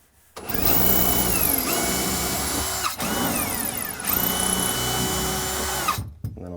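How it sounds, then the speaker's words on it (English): Power drill driving into a wall cabinet being installed as a base cabinet, with several close whining bursts that rise and dip in pitch and brief pauses between them. "Now I can take my drill, find those holes."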